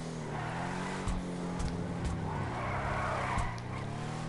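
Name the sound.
Shyster Deviant car tires sliding out, from video game GTA Online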